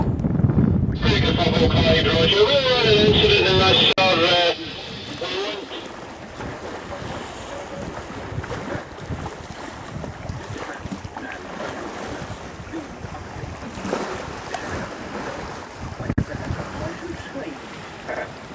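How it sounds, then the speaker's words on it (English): A sailboat moves under sail across open water on a sunny day, with constant wind buffeting the microphone and waves rushing along the hull; someone speaks briefly at the start before the wind and water noise carry on alone. "sailing away from the buoy under sail"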